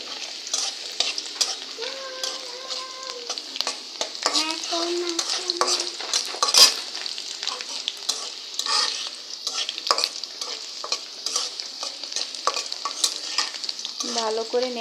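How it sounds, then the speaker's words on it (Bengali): Whole garlic cloves fry in hot oil in a pan, a steady close sizzle punctuated by frequent scraping stirs of a spoon, with no talking. "ভালো করে নেড়েচেড়ে ভেজে নিব বাদামি করে।"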